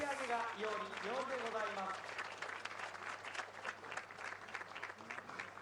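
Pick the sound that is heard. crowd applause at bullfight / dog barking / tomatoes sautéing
crowd applause at bullfight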